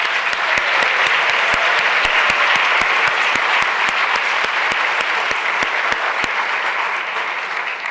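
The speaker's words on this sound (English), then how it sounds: "with a final round of applause" Sustained audience applause at an anniversary awards ceremony honoring fellows and awardees, steady dense clapping throughout with a few sharp individual claps standing out, tapering slightly at the end.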